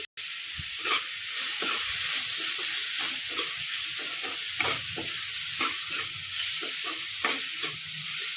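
Spices such as turmeric, chili powder and coriander powder sizzle and crackle in hot oil for a dry fish curry, with a steady close frying hiss and repeated scraping stirs throughout.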